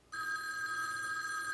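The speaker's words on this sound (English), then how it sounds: "I'll get the phone." A telephone rings with a steady electronic bell tone, loud and close, starting abruptly after a brief quiet moment and continuing unbroken, with no talk over it.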